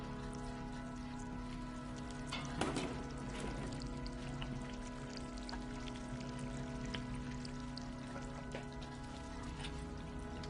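In the game Stray, water drips and patters steadily against a surface, with a brief louder splash early on, all over a low steady background hum.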